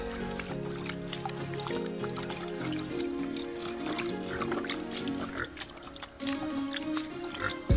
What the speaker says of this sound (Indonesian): Lalu disiram-siram.